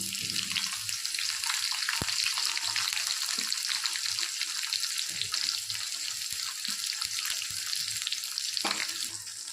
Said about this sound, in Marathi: आता थोडंसं अंदाजानं आपण कांदा टाकू